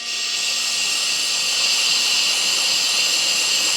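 Compressed air blasts through the oil heat exchanger of a Ducati Panigale 1199/1299 motorcycle. It makes a loud, continuous close-up hiss that holds steady for several seconds, with no talking.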